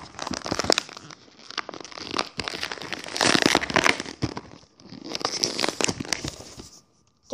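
Someone struggles to open the crinkly plastic packaging of a birthday-gift pom-pom craft kit, producing loud bursts of crackling and crumpling that come in irregular bursts with brief pauses, then a sudden stop.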